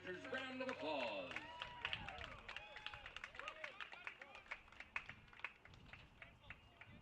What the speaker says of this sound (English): Everybody please give Bowden a big Drifters round of applause.